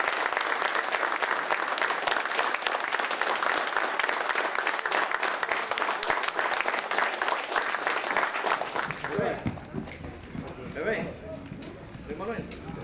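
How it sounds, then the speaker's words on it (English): A group breaks into loud, dense applause that fills most of the stretch, then fades out near the end, with voices talking over the tail. "Let's applaud them up."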